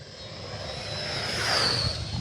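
An Avios Kobuz SZD-21 radio-controlled model glider with a 2200 mm wingspan roars past on a low pass at full throttle, its motor whine rising and swelling as it nears.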